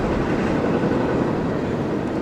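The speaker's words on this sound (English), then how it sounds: "I saw this train coming from a long distance away" A double-stack freight train carrying truck trailers rolls past close by as a loud, continuous roar and rumble of wheels on rails, steady throughout and heard alone.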